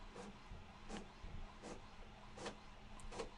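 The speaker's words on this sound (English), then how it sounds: "So there's my printer kicking up. You can hear it over in the corner." An office printer runs off in a corner, its faint mechanical whirs and clicks coming in a steady rhythm of short bursts about once a second.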